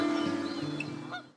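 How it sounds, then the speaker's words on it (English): Geese in a large noisy pre-migratory flock gathering on a bay, a dense overlapping chorus of honks and calls, fairly near and continuous before fading out. "These pre-migratory gatherings can reach thousands of individuals and transform bays into noisy bird conferences."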